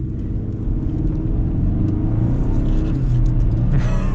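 A lifted 2023 Hyundai Santa Cruz in sport mode accelerates at partial throttle, its engine and road rumble building steadily and loud from inside the cabin, with no talk.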